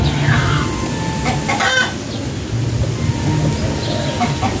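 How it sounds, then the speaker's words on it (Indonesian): Chickens cluck in the background while a rooster crows once in a village on the edge of a forest, set against a steady outdoor wash of wind and ambient noise. "suara nyanyian ayam-ayam"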